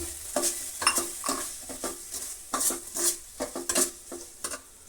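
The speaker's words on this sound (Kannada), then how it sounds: "ಈಗ ವಿನಿಗರನ್ನು ನೋಡಿ ನಾನು ಎಷ್ಟು ಬೇಕೋ ಅಷ್ಟು ಮಾಡಿದ್ದೆ ಈಗ ಅದನ್ನು ಹಾಕ್ತಾಯಿದ್ದೀನಿ" Vinegar going into a hot pan of gobi manchurian sauce, with irregular close clinks and scrapes of a utensil against the pan over a faint sizzle.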